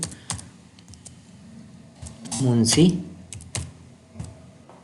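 Rapid keystrokes on a computer keyboard while a footnote is typed into a Microsoft Word document, with a dense flurry in the middle and scattered taps around it, heard under someone speaking Hindi.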